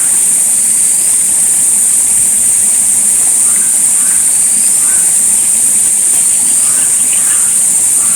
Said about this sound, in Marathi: एका बाजूला तुम्हाला पाणी पडताना आवाज येत असेल आणि एका बाजूला तुम्हाला एकदम किड्यांचा किंवा पक्ष्यांचा आवाज येत असेल